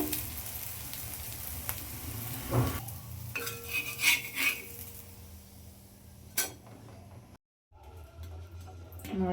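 Akki roti sizzling in oil on a pan, a steady low crackle with occasional clinks of a utensil and a brief gap near the end, with faint speech in the background.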